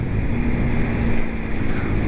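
A Kawasaki Z125 motorcycle ride on the road, with a steady engine drone and heavy wind rush across the microphone, loud and continuous with no speech.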